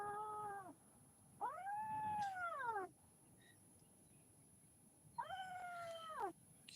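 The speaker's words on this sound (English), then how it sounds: "Can you hear the puppy?" Cold puppies whine in three drawn-out, rising-and-falling cries with pauses between them, fairly close and clear against a quiet background.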